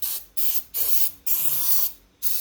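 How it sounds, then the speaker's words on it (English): Short bursts of mass airflow sensor cleaner sprayed onto parts of a junkyard Kubota diesel engine during a teardown, four or five loud close hissing blasts separated by brief pauses. "I've got some mass airflow cleaner."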